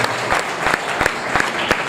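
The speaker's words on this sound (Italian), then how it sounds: "fatevi un grande applauso perché è veramente bellissimo" Brief burst of lively applause from a crowd at a regional masters athletics festival in Veneto, many hands clapping densely and loudly with a few sharper individual claps.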